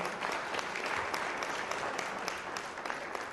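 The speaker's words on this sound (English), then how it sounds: "So a big round of applause for all the panelists today." Steady round of audience applause for panelists closing a business conference session, many hands clapping evenly at moderate distance throughout.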